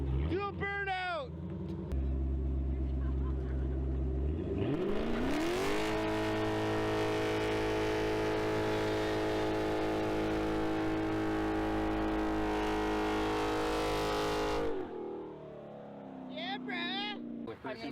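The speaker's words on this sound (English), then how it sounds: "Do a burnout!" A widebody Dodge Challenger runs hard through a burnout, its engine winding up and holding a loud, sustained roar for about ten seconds before cutting off, with brief shouting voices at the start and end.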